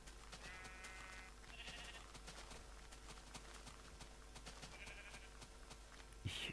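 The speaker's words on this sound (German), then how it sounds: "jetzt laufen uns die ganzen Schafe wieder hinterher" Sheep in the Minecraft video game bleat faintly a couple of times over a soft, steady game background.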